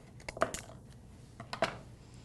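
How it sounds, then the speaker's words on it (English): Floral wire is snipped in half for a paper flower bouquet, giving two small sharp clicks about a second apart, close and fairly quiet against a faint room background. "So we can probably cut this wire in half."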